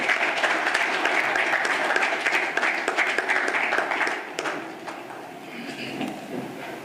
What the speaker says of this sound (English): can we give a really concerted round of applause to our president, Dr. Ben.